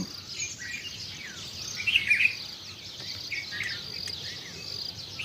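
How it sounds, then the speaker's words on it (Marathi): Small birds such as sparrows chirp and twitter at dawn on a wet farm, a busy chorus of scattered tweets with a brighter burst of calls near the middle, steady insect or cricket hum beneath. "चिमक्याचा किलकिलाट चिवचिवाट पक्ष्यांचा कोंबड्यांचा आ आरवणं"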